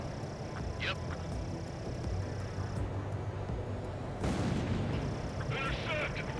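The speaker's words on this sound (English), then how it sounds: "Fire the AA!" Anti-air gunfire in the jet combat game Ace Combat 7 rumbles as a continuous heavy barrage, loud and steady, with a short tonal squawk in between and radio chatter over it.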